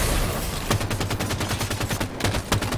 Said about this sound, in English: I got killed by a shotgun.